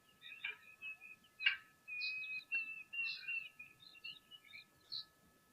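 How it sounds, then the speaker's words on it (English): A chinspot batis calls at a waterhole in the wild, with clear, whistled notes and short chirps repeating through the clip amid other light bird sounds, fairly close and distinct over a quiet background. "Oh, I can hear a chin spot batis as well."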